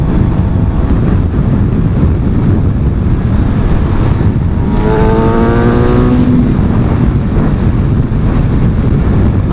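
Steady loud wind roar buffets the microphone while riding a 2016 Suzuki GSX-R750 sport motorcycle, with a brief rising engine whine partway through and no talking.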